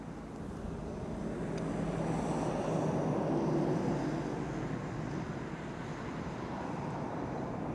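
A Singapore Airlines A350 airliner moves at Amsterdam Schiphol Airport, a distant, steady jet rumble that swells slightly in the middle, blended with wind and outdoor noise.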